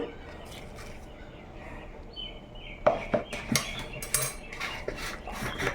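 A spoon clinks and scrapes in a bowl while boiled jackfruit is mixed with ingredients such as gram flour for a vegetarian fish-style curry. The clatter is close and irregular, with faint birds chirping in the background.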